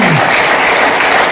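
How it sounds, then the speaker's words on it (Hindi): A large audience at an indoor product-knowledge banquet claps steadily and densely, a loud continuous wash of applause with no voices. "ताली जब भी बजाओ ईमानदारी से बजाओ"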